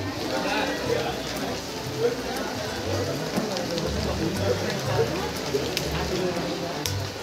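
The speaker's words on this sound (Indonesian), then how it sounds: "Oke, baik dari masjid hujan, guys." Steady rain pours outdoors over an open-air festival with food stands, a continuous broadband hiss on stalls and ground, with voices talking beneath it throughout.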